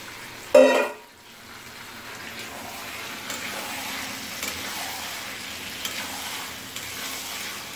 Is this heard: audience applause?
no